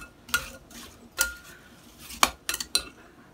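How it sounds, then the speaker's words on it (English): Apple pie filling with oil and vanilla extract tossed in a bowl, giving a few scattered clinks and scrapes of utensil against dish, moderately loud and close, with no talking. "Toss everything together"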